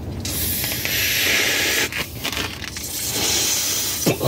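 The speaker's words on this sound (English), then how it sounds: "Let me blow this up." A simple latex party balloon being inflated by mouth, a steady breathy rush of air filling it for several seconds with a brief pause midway and a short squeaky stretch at the end.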